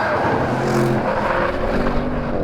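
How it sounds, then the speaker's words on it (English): Audi RS6 Performance with its 4-litre bi-turbo engine howls loudly and steadily through its exhaust, a continuous close engine roar with shifting pitch as it pulls hard. "that 4-litre bi-turbo can sing, the exhaust is howling"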